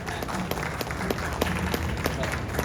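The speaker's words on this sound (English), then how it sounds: "Round of applause" Convention panel audience at a kaiju anime panel gives a short round of applause, a steady mid-level clapping texture mixed with murmur and voices underneath.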